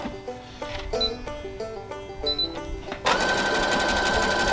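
A sewing machine stitching fabric for pro wrestling biker shorts, at first in short stop-start bursts of rattling needle strokes and then running steadily at speed, close and loud.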